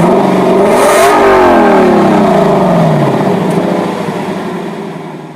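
A 2019 Lexus LC 500 engine pulls hard under acceleration, its loud, continuous note rising and shifting through the gears before easing slightly toward the end, with no voices over it.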